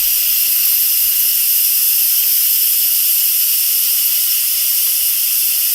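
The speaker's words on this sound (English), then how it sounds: "And the steam shoots up to the ceiling." Pressure cooker venting steam in a kitchen, a loud, unbroken hiss blasting at constant strength throughout, no voices.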